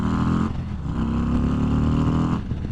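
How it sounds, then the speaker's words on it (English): A 2022 Harley-Davidson Road Glide or Street Glide ST touring bagger accelerates along a short straight, its engine and intake giving a loud, deep, continuous honking roar that rises slightly in pitch. "hopefully you guys can really hear that intake on this motorcycle like I can"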